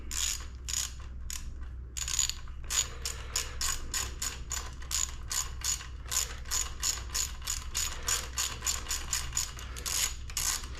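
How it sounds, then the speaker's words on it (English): Ratchet clicking in rapid bursts as bolts are backed out of a Sur-Ron electric dirt bike, the close, crisp pawl chatter repeating steadily with brief pauses between runs over a low background hum. "let's go ahead and get those bolts out"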